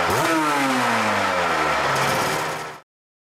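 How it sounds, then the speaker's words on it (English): A Honda NSR500 Screamer racing motorcycle engine revs hard and loud, its pitch climbing and sliding as it screams for nearly three seconds before cutting off abruptly. "When Doohan started winning with the Screamer engine, rival riders panicked"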